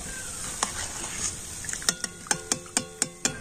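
Gram-flour boondi droplets sizzle softly in hot oil while a metal slotted spoon scoops them out, with a run of sharp, regular clinks and scrapes against the pan near the end.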